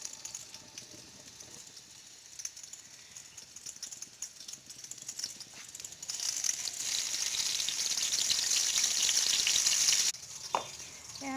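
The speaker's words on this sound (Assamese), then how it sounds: "এতিয়া বেঙেনা ফ্ৰাই কৰোঁ।" Long brinjal slices sizzle in a hot wok, first a quieter crackle with stirring rattles, then a louder, bright steady hiss that swells midway before dropping off near the end.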